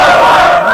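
A large crowd at a religious gathering roars the slogan Naraye Takbir together, a loud, dense massed shout that fills the whole moment with no pause.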